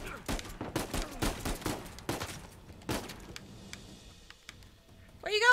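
Gunfire in Uncharted 4 rings out as a rapid string of sharp shots, a dozen or so in quick bursts, then thins to scattered distant pops and a short clatter at the end.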